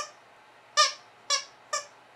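Squeaky pet toy squeezed three times, each a sharp, bright, nasal squeak with a quick decay, spaced about half a second apart and close in an otherwise quiet room.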